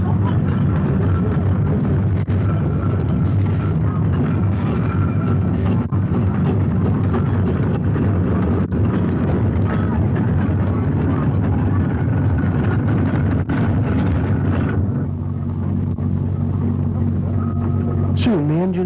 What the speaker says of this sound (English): The arena gradually fills as the engines come up to join the grand parade.